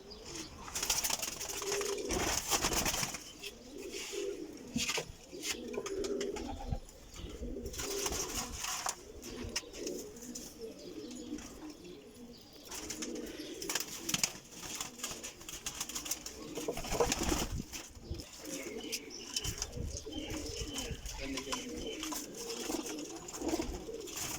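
Pigeons coo repeatedly in soft, overlapping low murmurs, with occasional wing flutters and rustling nearby throughout.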